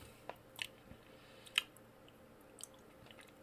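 Soft, close chewing of food with a few brief wet crunches and bites spaced irregularly over a faint background hiss, no talking.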